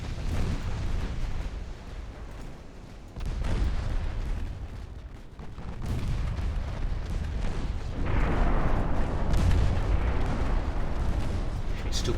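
Light cruisers fire naval guns in the Ultimate Admiral Dreadnoughts video game, a dense, loud barrage of overlapping booms and rolling blasts that surges in waves without pause.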